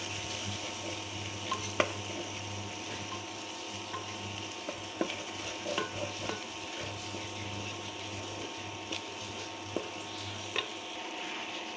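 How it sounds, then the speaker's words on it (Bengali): Turmeric, chili powder and garlic paste frying and being stirred in a pan, a steady low sizzle with scattered scraping clicks from the spoon throughout, no voices. "হলুদের গুঁড়া, মরিচের গুঁড়া, তারপর হচ্ছে রসুন বাটা, সব কিছু দিয়ে আগে একটু কষিয়ে নিচ্ছি মশলাটা।"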